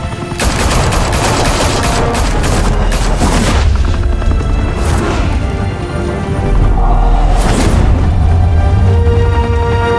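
Heavy gunfire erupts in Batman The Telltale Series, a loud volley of rapid shots and booming blasts in the first seconds, then sustained crackling fire and further bursts, close and intense, without speech.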